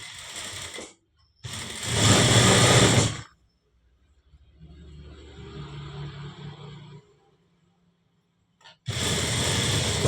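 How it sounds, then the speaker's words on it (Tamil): Sewing machine stitching a quarter-inch folded hem on a blouse, running in short loud bursts with a quieter stretch of whirring between them, close by and with no voices. "1/4 இன்ச் மடிச்சு தைக்கணும்."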